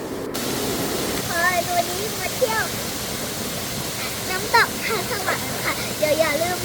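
Than Sawan waterfall in Chiang Muan, Phayao, within Doi Phu Nang National Park, roars as a continuous close rush of falling water under someone speaking.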